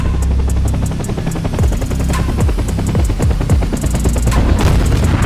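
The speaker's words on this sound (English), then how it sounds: "a missile hit me from my six" A missile strikes a helicopter in the combat flight game DCS World, a loud boom followed by rapid rattling bursts and a heavy, continuous rotor-like thudding up close.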